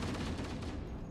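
Rapid gunfire from a Halo firefight aimed at stealth Elites, dense and continuous bursts that stay loud and close, with no pause in the shooting.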